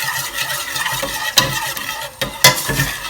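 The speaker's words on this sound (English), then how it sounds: "you can't not stir a scrambled egg" Scrambled egg being stirred in a hot pan, a steady scraping and clinking of utensil against metal over a continuous close sizzle, with a few louder knocks.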